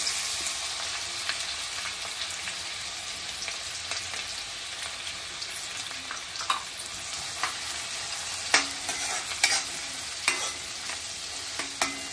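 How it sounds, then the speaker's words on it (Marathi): Onion frying in hot oil with cumin seeds and asafoetida for an eggplant and potato gravy, giving a steady soft sizzle with occasional scraping stirs and light clinks, and no voices. "आता कांदा घालायचा आहे लगेच"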